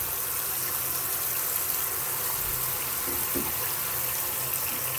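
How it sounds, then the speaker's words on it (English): Water runs from a tap in a steady, hissing gush, unbroken and fairly close, with no talking over it. "Turning the water up right now."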